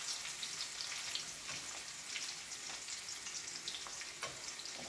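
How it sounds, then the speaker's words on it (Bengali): Sliced onion fries in a pan as a katla fish and potato curry is prepared, producing a faint, continuous crackling sizzle with soft stirring bursts, quiet and close with no talking. "অনিয়নটা আমি লাল লাল করে ভেজে নেব।"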